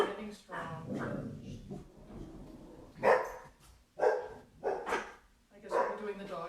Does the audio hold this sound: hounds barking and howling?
yes